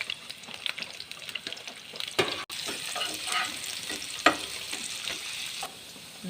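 Chopped garlic sizzles in hot oil for tempering kolai greens, a soft crackling hiss broken by a few sharp utensil clinks and stirring scrapes; no voices.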